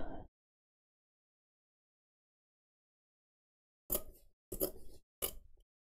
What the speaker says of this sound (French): C'est trop satisfaisant quand même ce bruit de ciseaux.